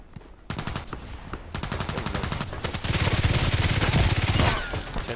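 Glock pistol fire in the shooter game Contract Wars: rapid, evenly spaced shots in several bursts, loud and close. The bursts grow denser into a sustained volley near the end.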